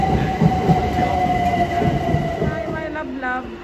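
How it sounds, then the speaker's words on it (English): A train pulls into a London station close by, wheels rumbling and a high steady squeal ringing over the clatter as it slows. "That's our train."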